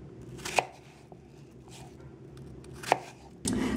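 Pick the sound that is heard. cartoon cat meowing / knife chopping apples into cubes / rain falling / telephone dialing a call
knife chopping apples into cubes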